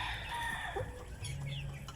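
Free-range heritage and crossbred chickens, including Rhode Island types, clucking on an outdoor range, soft close calls over a continuous background murmur.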